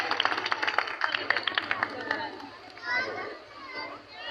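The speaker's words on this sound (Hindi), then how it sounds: "खुदावंद के जलाल के लिए जोरदार तालियां बजाएं।" Congregation at a Christmas church gathering in Pakistan claps for the glory of the Lord; quick, crisp clapping fills the first two seconds, then fades into lively crowd chatter and children's voices.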